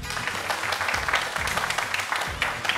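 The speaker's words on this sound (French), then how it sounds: "On applaudit Roland." An audience applauds in a television studio for a departing guest: a moderate, continuous patter of clapping hands, with some voices mixed in.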